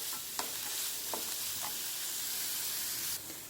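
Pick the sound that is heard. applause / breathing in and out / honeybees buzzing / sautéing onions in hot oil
sautéing onions in hot oil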